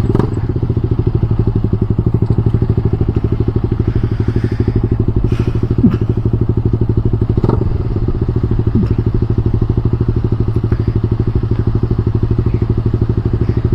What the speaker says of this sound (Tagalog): Sarap ng tunog ng rev match